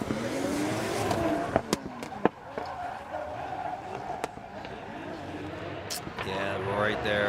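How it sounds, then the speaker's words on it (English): Drift car at Okayama International Circuit, its engine popping and crackling in sharp bursts amid steady engine and tire noise, with commentators talking over it. "The car is popping."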